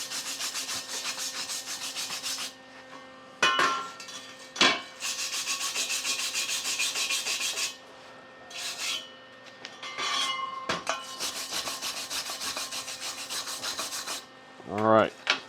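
Wire brush scrubbing flux off a flux-core weld on scrap steel, loud raspy back-and-forth strokes in several bursts separated by short pauses and a few sharp knocks, close up with no talking.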